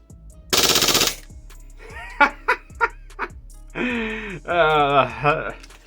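An Army Armament R18 airsoft pistol fires one rapid full-auto burst, a loud close mechanical rattle lasting about half a second, followed by gasps and laughing speech.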